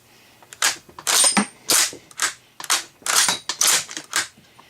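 The bolt of an 1898 Mauser rifle is worked firmly and briskly, a close run of sharp metallic clacks and sliding scrapes in quick repeated cycles with brief pauses between, no speech.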